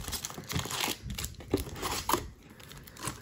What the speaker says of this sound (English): I was gonna randomize these packs here, shuffle them up